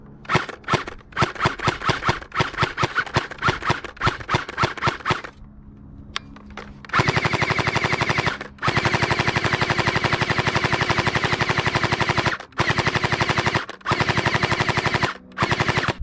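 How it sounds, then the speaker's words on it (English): Rapid bursts from an X-Shot Hyper Gel HPG-700 gel blaster: a stuttering run of sharp repeated shots, a brief pause, then long dense near-continuous firing broken by a few short gaps, loud and close with no talking. "Now let's fire some shots downrange."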